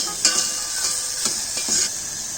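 Vegetables being stirred in a hot pot for soup, a steady sizzle with a few soft scraping strokes repeating at a loose rhythm, close and fairly loud.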